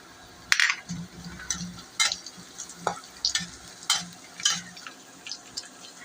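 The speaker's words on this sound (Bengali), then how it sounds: "এখন কাঁচামরিচটা দিয়ে একটু ভাজবো।" Green chilies sizzle in oil with fried onions in a pan, cooking for a beef liver and potato curry, with intermittent stirring scrapes and clinks over a low continuous crackle.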